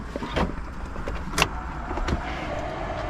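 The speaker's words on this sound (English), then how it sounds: "Wipers work." Windshield wipers running on a 1968 Pontiac Le Mans convertible, a low motor hum inside the car with soft periodic sweeping thumps and a brief mechanical clunk, no talk.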